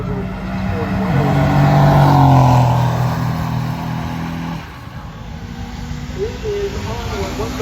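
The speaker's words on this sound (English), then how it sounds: "what you guys just saw down there was the 300ZX with an LS turbo" A Nissan 300ZX with an LS turbo engine makes a street racing pass, a loud rising engine roar that sweeps past and fades, followed by a quieter second engine note, with talk over it.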